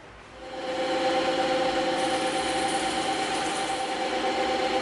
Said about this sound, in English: we can probably hit here and here also with the bandsaw